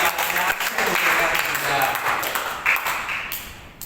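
Church congregation at a Sunday service claps together, a dense, loud patter of applause spreading through the room over a few seconds, with a voice speaking through it.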